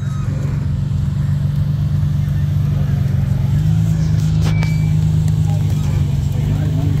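Short-wheelbase off-road vehicle engine droning steadily and loudly at close range as it tackles a steep obstacle, with a deeper surge midway and crowd noise and chatter around it.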